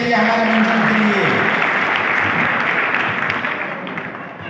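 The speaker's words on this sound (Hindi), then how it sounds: "जोरदार ताली होनी चाहिए हमारे मंजिल के लिए।" An audience at a wellness seminar in Palamu breaks into loud, sustained applause that fills the room, with a brief voice at the start, then the clapping slowly fades toward the end.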